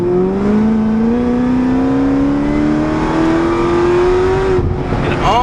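A supercharged Chevrolet Corvette ZR1 with a replaced ECU pulls hard in third gear, its engine note rising smoothly and loudly for about four seconds before the throttle lifts and the sound drops off, with no talking.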